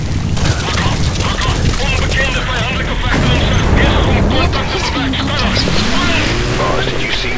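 A vehicle crashes and explodes in Metal Gear Solid 5, giving a loud, sustained roar of booms and crackling debris with dense rumbling that lasts several seconds under game sound.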